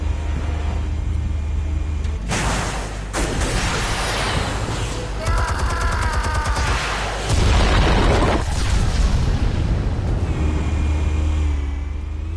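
Explosives detonate in a Batman video game, with heavy booming blasts and crashing bursts over several seconds, loud and close amid game music and effects.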